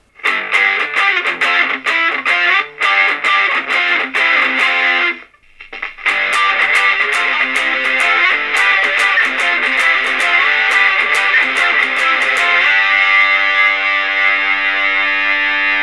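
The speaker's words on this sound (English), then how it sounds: "So let's try some heavy distortion." An Ibanez Paul Gilbert PGMM31 electric guitar played through a Zoom heavy distortion effect, chords and riffs with a short pause midway, ending on a long sustained ringing chord.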